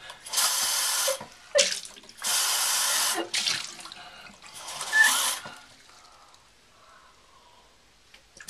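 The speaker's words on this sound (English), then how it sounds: "Open the thing." A bathroom tap gushes water into a sink in several loud bursts, switched on and off repeatedly, then fades to quiet trickling and dripping with no one speaking.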